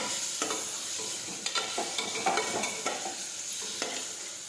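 Eggplant curry being stirred with spices in a frying pan, a steady sizzle broken by repeated scraping and clattering strokes of the spoon at an irregular rhythm.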